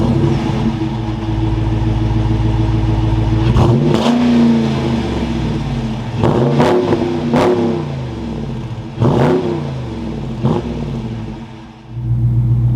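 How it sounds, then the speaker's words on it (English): A 2023 Dodge Challenger RT Plus engine fires up and settles into a deep idle, then is revved in several sharp blips that rise and fall back to a rumbling idle, loud and close with no talking. "keeping my foot on the brake, we can go ahead and fire it up"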